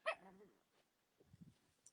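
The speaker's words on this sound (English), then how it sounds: "I just had to pat my dog. She was whining in the background." A pet dog gives a short yip and whine indoors, then a few soft, faint whimpers follow after a pause, quiet and close.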